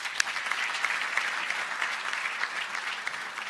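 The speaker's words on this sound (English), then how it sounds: "Let's give him another round of applause." Applause from a conference audience at the opening session of South Africa's National Space Conference: dense, steady clapping that fills the whole moment without any talk over it.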